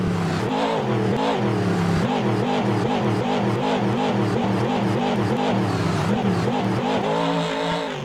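Two monster trucks, the Lucas Oil Crusader and Metal Militia, taking off and racing at a simulated Monster Jam in Brisbane in Rigs of Rods, engines roaring loud and continuous with rhythmic revving pulses, no speech.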